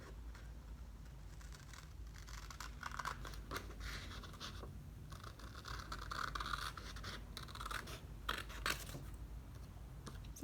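Scissors snip through paper while cutting out a paper turtle craft, with soft, close scratchy cuts and crinkles in an uneven stream, no talking.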